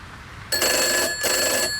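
A telephone ringing loudly and close by, two bursts of rapid electronic bell trilling separated by a short pause.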